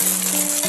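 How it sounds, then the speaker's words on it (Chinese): Cooked rice tossed with scrambled egg in an oiled wok gives a brief, dense, steady sizzle with faint stirring under soft background music. "炒散后加入米饭"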